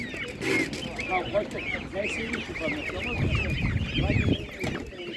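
Chickens and other poultry cluck and call near and far at an animal market, with many overlapping bird voices and people talking throughout.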